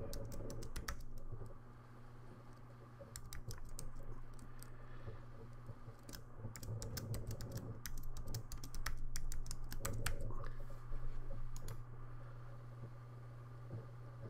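Someone types a password on a computer keyboard, producing quick bursts of soft, close key clicks separated by short pauses over a quiet room hum, with no talking.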